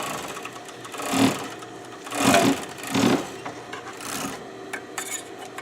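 Sewing machine stitching an ear onto a stuffed animal, heard as three short bursts of whirring stitches separated by pauses with faint handling noise between.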